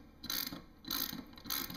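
A half-inch socket wrench ratchets a nut loose on a skateboard wheel, making three short bursts of close, crisp clicking separated by brief pauses, with no talking.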